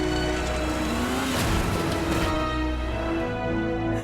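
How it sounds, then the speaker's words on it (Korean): A car speeds away in a film, its engine roaring loud and close, with a continuous revving drone and a surge partway through. "자동차를 타고 정신없이 도망치는 사라"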